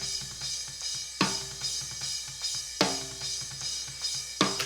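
Snare drum with no EQ boost at 200 Hz, played in a looping drum pattern: loud, sharp hits about every second and a half with lighter strokes and kicks between them, alone.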